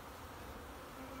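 Honey bees swarm around an opened beehive, their dense, steady buzzing close and continuous, filling the air with no talk.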